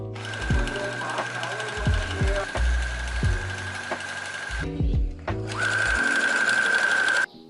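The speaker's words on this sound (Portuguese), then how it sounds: "Vou passar então e vou passar a costura em volta" A sewing machine stitches around the edge of a kitchen apron with steady, close, whirring runs, pausing briefly between bursts, while someone talks over it.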